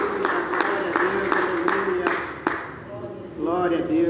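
A church congregation claps in an even, repeated rhythm under a loud speaking voice, and the claps fade out near the end.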